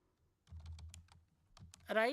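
Quick clicking keystrokes on a computer keyboard while logging in to an IoT project system, a burst of irregular taps followed by a short pause and a second burst, then a brief tonal sound at the end.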